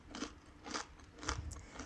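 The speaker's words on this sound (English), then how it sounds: "And listen to that crunch." Seeded sourdough discard crackers crunching as they are bitten, four crisp bites spaced about half a second apart, close and clear with no talking.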